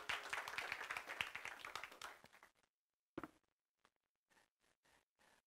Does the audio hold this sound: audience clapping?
yes